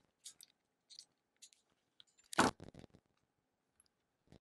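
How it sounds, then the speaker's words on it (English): BougeRV crimper squeezing an MC4 solar connector, a few small ratcheting clicks followed by one louder crunching clamp and a short rattle, close by in a quiet room. "I'll try crimping it with a larger size"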